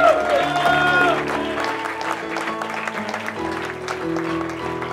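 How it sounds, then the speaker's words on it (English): A church congregation clapping as an offering to the Lord, a sustained wash of applause that gradually fades beneath held organ or keyboard chords. "come on, give a clap offering to the Lord."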